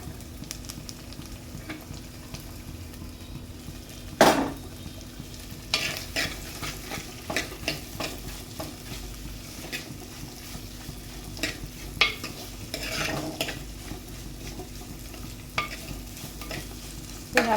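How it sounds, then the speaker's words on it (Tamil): Two chopped onions frying in a pan for a fish curry, with a steady close sizzle throughout and repeated scraping, clinking stirs of a spoon against the pan, some sharper knocks standing out; no talking. "நல்லா வணங்கி வறுத்துங்க."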